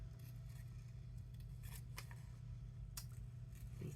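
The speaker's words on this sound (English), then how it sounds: "So we'll fussy cut out" Scissors fussy cutting paper for a crafting project, scattered crisp snips and small crunches, close but quiet over a low steady hum.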